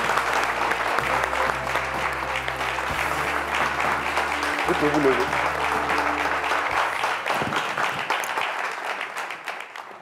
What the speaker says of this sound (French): On applaudit s'il vous plaît très très fort.